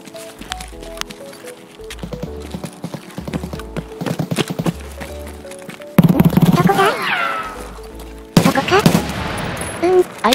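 Enemy MP9 submachine gun fire in Escape from Tarkov comes as rapid, repeated bursts of sharp cracks, somewhat distant, and is later joined by louder nearby noises and a speaking voice.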